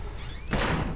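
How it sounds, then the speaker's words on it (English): A door shuts in a horror video game with a single dull thunk about halfway through, preceded by a faint creaking glide and followed by a sustained low rumble. "Close the door."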